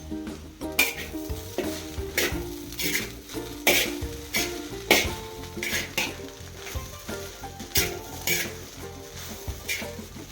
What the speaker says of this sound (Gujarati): હવે એની અંદર આપણે લાલ મરચું નાખીને તેને બરાબર હલાવી દઈશું